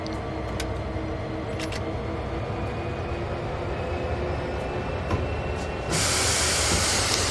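A 1970s Clinchfield freight train in Train Sim World 2 backs slowly with its railroad cars and caboose, a steady low rumble and hiss of rolling stock with faint clanks, then a loud burst of air hiss near the end.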